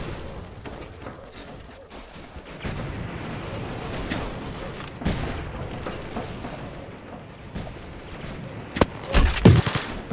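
Rapid video-game gunfire from Roblox Aimblox, with dense bursts of shots and booms running almost continuously at close range, growing louder toward the end.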